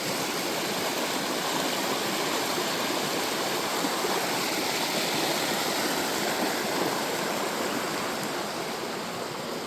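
A river rushes steadily along its course, a loud, unbroken wash of flowing water with no voices, heard close by on a wilderness trek.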